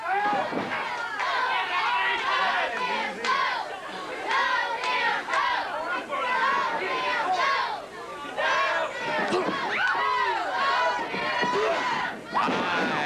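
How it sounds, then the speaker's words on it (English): A spirited wrestling crowd at the WTBS Sports Arena keeps up a steady roar of chatter and cheering, with occasional thuds, while a commentator talks over it throughout. "Have a very spirited crowd here today at the WTBS Sports Arena."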